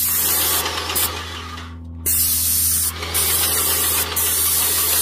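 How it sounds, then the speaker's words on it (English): An airless paint sprayer with a brand-new tip sprays paint onto a stucco house wall in loud, steady hissing bursts, broken by a couple of short pauses, over a constant low motor hum. "when you spray with a brand new tip, you want to spray a little bit further away"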